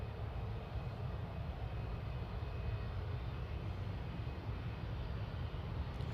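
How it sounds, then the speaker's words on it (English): EasyJet airliner flying near Manchester toward Buxton, a steady distant low rumble of engines held at an even level throughout, with no voices. "following this EasyJet,"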